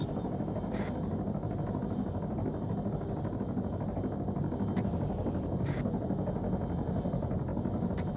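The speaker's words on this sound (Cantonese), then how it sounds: "上直升機撤退啦" Helicopter in the military shooter game Arma 3, a steady dense rotor and engine drone filling the whole span at constant loudness with no speech.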